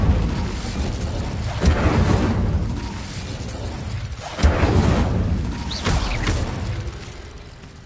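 In Hogwarts Legacy, the Incendio fire spell goes off as two roaring, whooshing blasts a few seconds apart. Each one swells quickly and then fades into a rumbling tail, with no talking over them.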